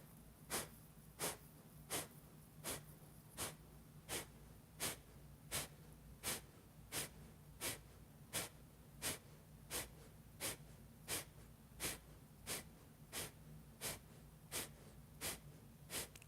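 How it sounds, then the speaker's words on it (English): Rhythmic, forceful breathing through the nose in the Wim Hof style during a guided breathing round, sharp puffs of air repeating steadily about every 0.7 seconds, close and quiet with no talking. "Think Wim Hof type of style of breathing, except not through the mouth."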